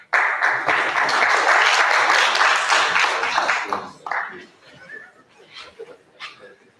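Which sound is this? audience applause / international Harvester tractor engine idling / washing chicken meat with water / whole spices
audience applause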